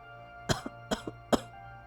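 Three harsh, dry coughs, each with a short follow-up hack, spaced evenly and heard close in a quiet room.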